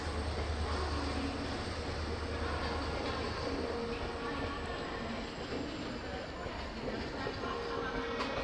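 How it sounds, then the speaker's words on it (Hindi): An Intercity Express train on the Pune–Mumbai route rumbles past at close range, a steady broadband roar of rolling wagons with low rumble that holds for the full stretch without pause. "ये मेरे ख्याल से इंटरसिटी एक्सप्रेस है,"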